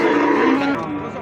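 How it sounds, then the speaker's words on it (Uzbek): A sold ox lows at a livestock market, one long, loud, deep call lasting about a second, with crowd noise around it. "yana savdo bo'lgan ho'kiz ketyapti"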